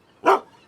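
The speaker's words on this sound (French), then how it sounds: "c'est le chien de la maison" A single sharp bark from Léo, the household dog, loud and close, cutting into an otherwise quiet moment.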